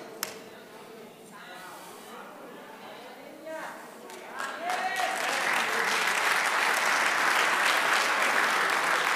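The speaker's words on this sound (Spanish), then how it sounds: "Esas son las mujeres aplaudiendo." Women in a church congregation break into applause. A speaking voice comes first, then the clapping swells halfway through into loud, sustained, dense applause.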